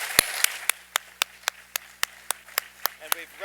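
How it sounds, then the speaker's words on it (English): Single pair of hands clapping in a slow, even rhythm after a panel discussion at the Edith Farnsworth House, about a dozen sharp, close claps at regular intervals over a quiet background. "Let's give a round of applause to all of our speakers."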